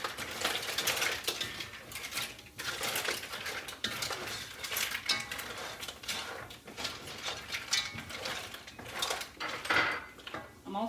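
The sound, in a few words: stirring seafood (mussels) in a pot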